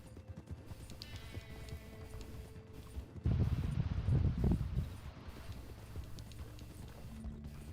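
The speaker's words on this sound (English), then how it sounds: "I guess, Nick, you're on a much faster horse" Horse hooves galloping in Red Dead Online, a soft rhythmic clip-clop that swells louder for a couple of seconds midway over a quieter background of rustle and wind.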